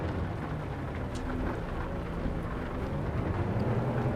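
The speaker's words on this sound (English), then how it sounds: "an unusual rain here in Page, Arizona." In American Truck Simulator, rain falls on a truck at night near Page, Arizona: a steady, dense wash of patter on the cab, mixed with a low engine drone and no speech.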